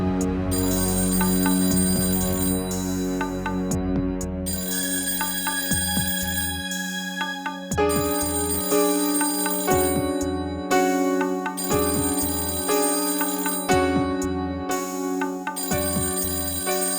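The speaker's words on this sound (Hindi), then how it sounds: "रात को हॉल का फोन बज रहा है।" Hall telephone ringing at night, a loud electronic ring repeating in steady bursts with short gaps, continuing alone without voices.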